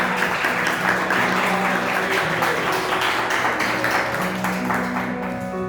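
A church congregation applauds loudly during an evening service, with continuous full clapping and sustained musical tones underneath.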